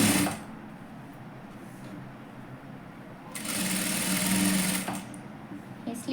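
A sewing machine stitches a net sleeve onto a garment in short bursts, a quick whirring run near the start and a longer, louder buzzing run in the middle, close up against a quiet room.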